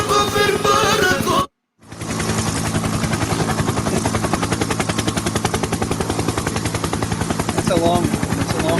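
A helicopter sound effect chops in rapid, even rotor beats, loud and sustained after a brief break, with a voice heard faintly near the start.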